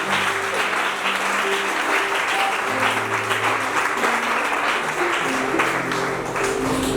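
An audience applauds at a Bible competition event, a dense, steady clapping that carries on at even strength throughout, with a few voices and tones faintly mixed in underneath.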